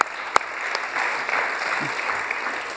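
Audience at a startup contest final applauding a participant, a sustained wash of clapping from a crowded room, opening with a sharp isolated clap before the steady patter settles in.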